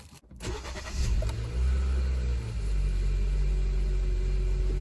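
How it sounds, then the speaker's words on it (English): A 2016 Kia Cee'd 1.6 GDI with a manual gearbox cranks briefly and fires up, then settles into a smooth, even idle rumble heard from close by. "engine started"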